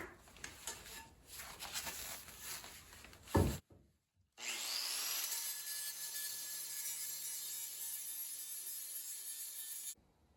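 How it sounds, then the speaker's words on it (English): Galvanizing being ground off pieces of steel pipe for a mini bike frame, a harsh abrasive rasping that breaks off briefly, then a long steady high-pitched power-tool grind that stops abruptly. "Let's clean up these pieces of pipe so that we're not welding any galvanizing."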